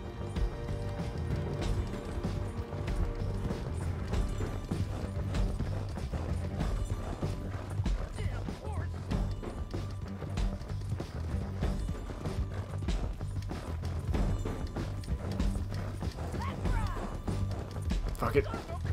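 Hooves of a galloping horse in the video game Red Dead Redemption 2 beat in a steady, dense rhythm beneath continuous game sounds, with voices talking over it.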